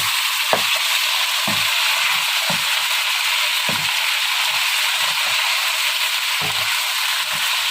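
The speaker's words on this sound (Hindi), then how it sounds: "प्याज के साथ गोश्त को अच्छी तरह फ्राई कर लेते हैं" Mutton frying with onions in a pan gives a steady, loud sizzle throughout, broken by a few soft clinks and scrapes of stirring.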